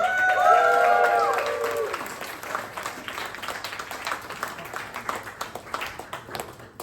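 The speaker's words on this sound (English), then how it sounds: "give a huge round of applause" A live audience at a science comedy show at the Sydney Fringe applauds with loud clapping and a few cheers, peaking at the start and thinning into scattered, uneven claps over several seconds.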